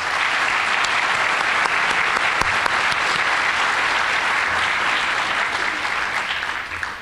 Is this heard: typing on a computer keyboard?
no